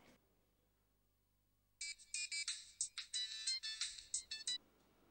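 A telephone ringtone plays in a quick run of bright electronic bursts, fairly close and alone in an otherwise quiet room, for about three seconds before stopping.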